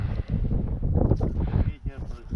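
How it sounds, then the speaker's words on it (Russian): Strong wind at minus 17 on the Pechora River during fishing buffets the microphone with heavy low rumbling gusts throughout, loud and close. "Ветер очень сильный, минус 17 с ветром."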